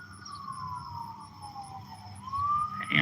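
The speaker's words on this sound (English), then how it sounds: "Ambulance." An ambulance siren wails on a street lined with businesses. One long tone glides slowly down and then rises again as the vehicle passes, over steady traffic noise.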